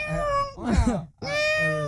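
A cat meows loudly and insistently nearby, drawn-out tonal cries broken by a short pause, with a person's voice briefly mixed in.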